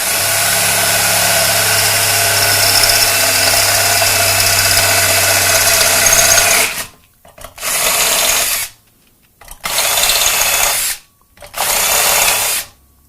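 A handheld power drill bores through material, first in one long loud steady run, then in three shorter bursts separated by near-silent pauses.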